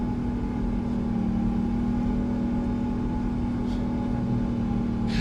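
Steady hum of PMDG 777 jet engines in Microsoft Flight Simulator 2024, a constant droning whir with a low tonal band, loud and unbroken throughout with no talk.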